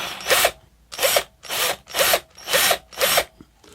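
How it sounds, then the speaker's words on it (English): A power drill grinds into wood while carving a cowboy figure, in six short, evenly spaced bursts, each a loud whirring rasp separated by brief pauses. "you can just take your time with the drill"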